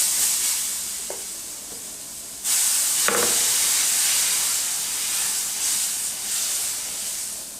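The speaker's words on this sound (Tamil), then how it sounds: "எண்ணெய் சேர்த்துட்டு நம்ம 1 மணி நேரமாக ஊற வச்ச மாவை அடையாக வார்த்துடலாம்." Lentil adai batter hits a hot oiled griddle. After a quiet hiss, a loud, steady sizzle bursts in suddenly and keeps frying evenly to the end.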